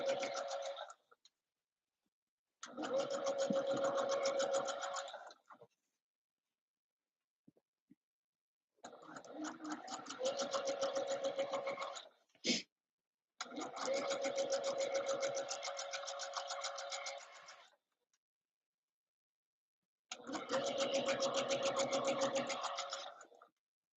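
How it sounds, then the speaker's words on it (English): Sewing machine stitching down a fabric casing on a Christmas dress at a stitch length of 4, running in four long bursts of steady mechanical whirring with short pauses between them, one sharp click in the middle. "So I'm sewing the casing down."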